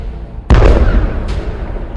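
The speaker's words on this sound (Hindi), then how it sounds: "यहां एक मिसाइल निकलती है और सीधे बॉर्डर पर खड़े इजराइल के मरकावा टैंक को फोड़ देती है।" A missile strike blasts an Israeli Merkava tank at the Hanita border point, one sudden loud boom with a rumbling tail, followed by a fainter secondary burst about a second later.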